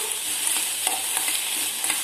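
Bread toasts to golden brown in a pan, giving a soft steady sizzle with a few light scraping stirs and taps, close and fairly loud with no speech.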